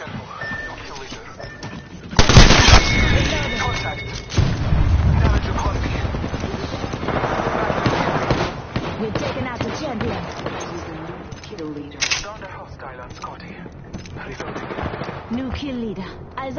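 Bursts of gunfire in a shooter video game on PS4, a sharp loud volley near the start followed by sustained rattling fire and scattered shots, with game voice callouts heard over the action.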